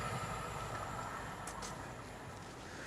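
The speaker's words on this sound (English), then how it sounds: "a train coming this way. It's another Avanti West Coast one, I think." An Avanti West Coast train passing at a distance on a very wet day beside a lake, a steady low rumble of wheels on rails with a faint brief squeal, fairly quiet and without talking.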